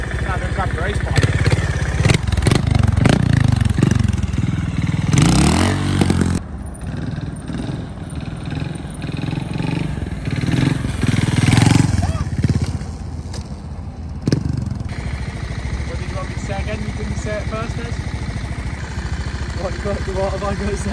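Honda race motorcycle engine at the Honda factory test area, running loud and close with a steady buzzing drone that rises and dips with throttle, heard under someone talking.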